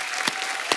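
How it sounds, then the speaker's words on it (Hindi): A studio audience on a comedy talk show claps for Dilip Sahab: a dense, even wash of applause with a couple of sharper individual claps popping out, filling the whole short moment. "एक बार जोरदार तालियां दिलीप साहब"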